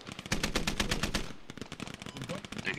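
Rapid automatic gunfire in the military shooter game Squad, a dense burst of loud repeated shots followed by scattered further shots and battlefield noise, with no talk.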